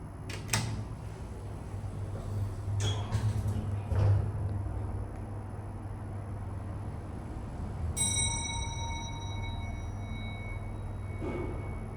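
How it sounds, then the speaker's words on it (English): A Hitachi traction elevator in a hotel sounds its arrival chime, a clear ringing tone that sustains and fades after a stretch of quiet hum, with a few faint thumps and clatters earlier. "I'm gonna get a sound sample of that chime"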